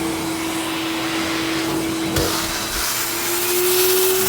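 A shop vac runs continuously while vacuuming a wool carpet, giving a loud steady motor roar and airflow whoosh with a rising hum and a couple of brief bumps, alone without talk.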